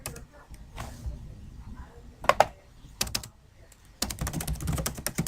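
Typing on a computer keyboard while filling in a street address on an online form: sparse key taps at first, then a fast, steady run of close clicks toward the end.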